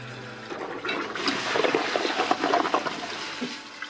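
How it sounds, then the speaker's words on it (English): Water rushes and trickles into a toilet tank through a serviced fill valve, rising to a steady close gurgling flow and then tapering off, with no talking. "Now turn on the water, refill the tank, and check for leaks."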